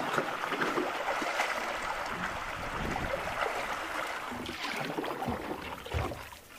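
Solo canoe paddling across Baird Lake in Quetico Provincial Park, a steady wash of water splashing and dripping close by, with soft repeated paddle strokes under light wind, no voices.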